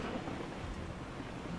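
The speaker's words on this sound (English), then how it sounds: "Okay, it's a rainy thunderstorm." A thunderstorm with steady rain in the video game Rimworld forms a dense, continuous wash of rumble and hiss, even in level and without voices.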